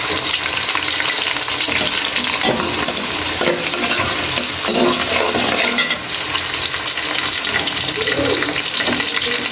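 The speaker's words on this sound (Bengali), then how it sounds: "তেল গরম হয়ে গেছে তো পেঁয়াজ দিয়ে দিব পোলাওয়ের জন্য" Onions frying in hot oil in a pot for pulao give a steady, loud crackling sizzle with some stirring and scraping throughout, and no voices.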